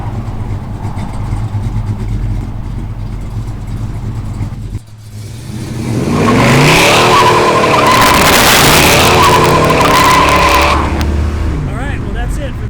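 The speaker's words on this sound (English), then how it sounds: "But does it burn rubber?" A 1957 Chevy Bel Air burning rubber: the engine idles, then revs hard into a loud, sustained tire squeal and roaring acceleration lasting several seconds, close by, with talk over the idle before.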